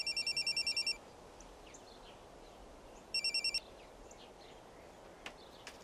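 A telephone in a Turkish TV comedy series rings in two short bursts of a bright electronic trill, one at the start and another a few seconds later, with quiet room tone in between and no talking.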